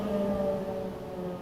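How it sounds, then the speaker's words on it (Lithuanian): Air raid warning siren sounding in Lithuania, a steady wailing tone held at moderate level with faint background hum. "pasitiko oro pavojaus perspėjimo sirenos"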